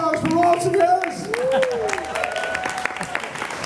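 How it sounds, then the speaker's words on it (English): Applause from a cabaret audience after a performer, broad clapping noise with tonal feedback or music tones running underneath, fairly loud throughout. "Raw applause for Ralston Harris"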